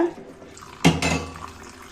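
Paneer is rinsed in a kitchen with running water, heard as a sudden splash and gush followed by a softer swirl of water against a bowl, close and brief, with no talking.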